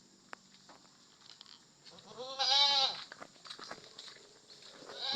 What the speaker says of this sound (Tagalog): Yan ating kambing na alaga.